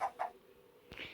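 A few short chicken-like clucks from Minecraft, fairly close and in quick succession, with no voices.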